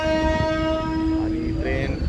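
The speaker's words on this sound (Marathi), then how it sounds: "आपल्याला सोडून ही ट्रेन निघालेली आहे मिरजच्या दिशेने" A train pulls out of Jath Road station toward Miraj, sounding a long, loud, steady horn that shifts pitch partway through, with rumbling wheel noise underneath.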